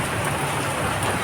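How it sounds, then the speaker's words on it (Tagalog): Heavy rain pours steadily in a Philippine barangay street, a dense continuous hiss and patter filling the scene at close range with no pauses and no voices. "bumabayo na naman yung ulan, malakas na ulan"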